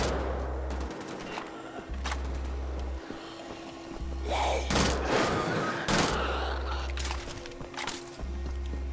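Bursts of weapon fire in Wolfenstein: The Old Blood, several sharp clustered shots in the middle over a steady low pulsing hum, fairly faint with background game ambience.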